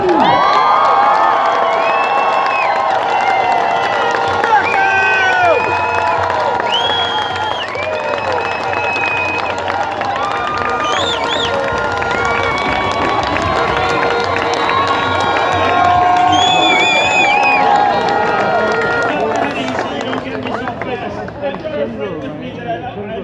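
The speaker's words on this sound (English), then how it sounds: "give a loud and a warm round of applause for constitutional lawyer Rocco Galati" An outdoor protest crowd at Queen's Park cheers and applauds loudly for a constitutional lawyer, a sustained roar of shouts, whoops and clapping mixed with many voices that holds steady for over twenty seconds before easing slightly.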